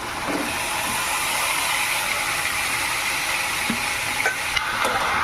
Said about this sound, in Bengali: এবার আমি মাশরুমগুলো দিয়ে দেবো